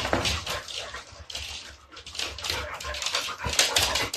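A dog, in a scene involving a Labrador and a Teddy-type poodle, whimpers and yips in a run of close, high-pitched whines, with rustling in the background.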